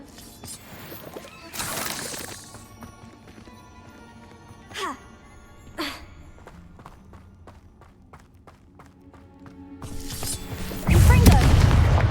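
The Bombarda blasting spell going off in Hogwarts Legacy, with a loud burst early on, sharp impacts in the middle and a heavy rumbling explosion near the end, mixed with game effects.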